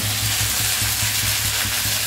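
Pasta frying in a pan with green chilli, onion and a little salt, giving a loud, dense, continuous sizzle with a faint rhythmic stirring pulse underneath, alone without talk.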